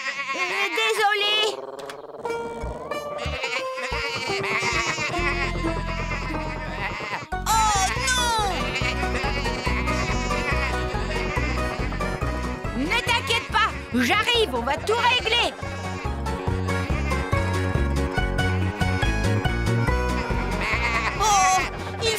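Cartoon sheep bleat repeatedly as they are rounded up into a field, amid lively background music, with people talking over parts of it.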